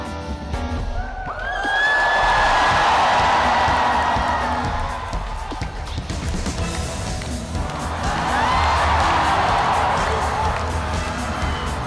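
A large audience at a Persona concert cheers and shouts in two swelling waves, loud and roomy, with music playing underneath.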